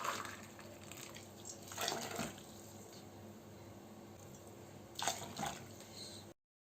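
Faint watery splashes and trickling come in a few short bursts over a quiet background hiss, like eight cups of water running into a soup pot of carrots and onions.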